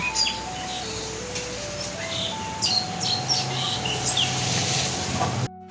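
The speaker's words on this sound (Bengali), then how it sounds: "পাখিগুলো কিচির মিচির করছে।" Birds chirp and tweet outdoors in short bursts over a steady low rumbling background hum.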